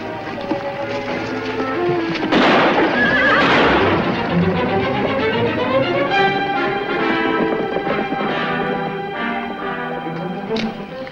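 A horse whinnies loudly in a 1953 Western film, a long shrill neigh that wavers and fades, followed by restless shuffling and a few hoof sounds.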